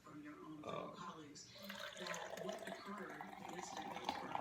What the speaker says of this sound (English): pour some of my Joe here into my thermos